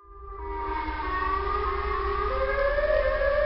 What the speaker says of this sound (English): did you just hear the siren head noise again?